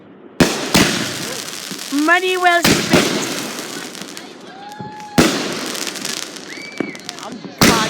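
Fourth of July fireworks going off in a neighborhood: loud sharp bangs at irregular intervals amid continuous crackle, with whistling rising and falling tones, while a person speaks briefly.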